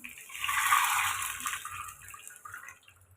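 Dissolved rasam liquid poured into a hot tempering pan, a steady close splashing rush that peaks early and then thins into a softer trickle and bubbling.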